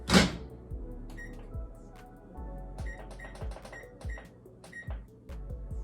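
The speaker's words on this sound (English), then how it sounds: "we have just preheated the oven" An oven control panel gives a series of short, high electronic beeps spaced irregularly while preheating to 375, along with soft thumps and clicks nearby in a quiet kitchen.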